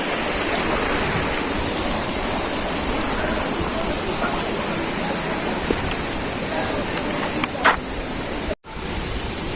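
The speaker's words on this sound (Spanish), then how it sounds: "Acá las piscinas desaguan todo el agua sobrante" Surplus overflow water drained from swimming pools rushes down a river channel in Nicaragua, a dense, steady roar of flowing water that stays close and constant throughout, with a brief dropout near the end.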